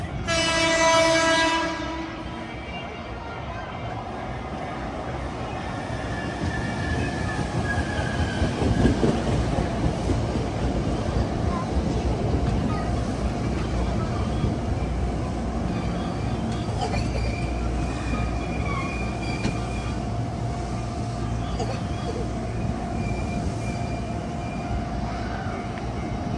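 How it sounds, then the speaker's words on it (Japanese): A Hankyu railway train pulls into a level crossing, a horn-like tone at the start giving way to a steady, loud rolling rumble of wheels on track that holds throughout. "到着の電車は準急大阪梅田行きです"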